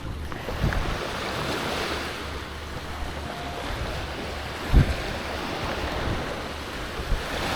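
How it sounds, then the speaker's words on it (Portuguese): Motorboats pulling away from a sunny beach at Canasvieiras, two heading out at once, with steady surf and wind rumble filling the scene and a brief thump midway; no voices. "Saíram 2 barcos de uma vez."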